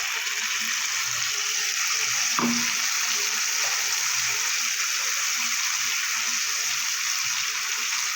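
Spice paste with Kashmiri chili sizzles in oil in a pan for a Bengali fish curry, a steady broadband hiss with a single brief clink partway through, close and even.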